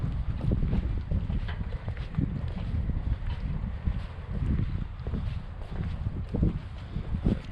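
Wind buffeting a microphone on a sailboat at sea, a continuous low rumbling roar with gusty swells and small knocks, no voices.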